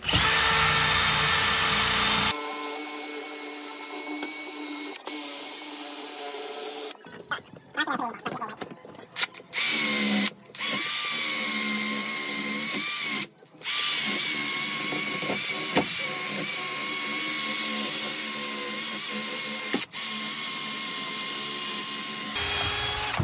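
A rotating bristle brush spins against a hedge trimmer blade in a loud, steady high-pitched whir, with scraping bursts and brief pauses as the blade is worked against the direction of spin.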